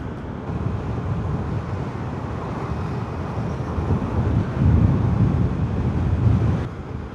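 Wind rushes steadily over a rider during a motorcycle ride, a continuous buffeting roar that swells slightly toward the end, with no talking.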